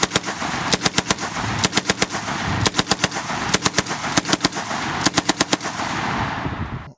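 Bren light machine gun firing in loud repeated bursts of rapid shots, several short volleys spread across the stretch over a steady background rumble, with no talking.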